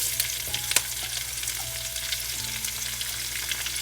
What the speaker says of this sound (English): we're going to saute the onions for about a couple minutes so it turns a little bit translucent